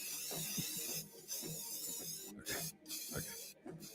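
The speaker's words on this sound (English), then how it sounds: "All right, Ken, let's spray the studio" An aerosol spray can is spritzed around a radio studio in a series of short hissing bursts with brief gaps between them, close to the microphone, while people move and talk faintly in the background.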